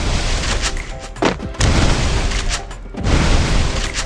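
Rapid gunfire and booming explosions from the Free Fire mobile battle game, loud bursts in quick succession with heavy low thumps, no talking.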